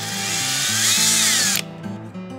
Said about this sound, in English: we're just going to use an 1/8-inch drill bit and drill holes through the plastic where we marked our holes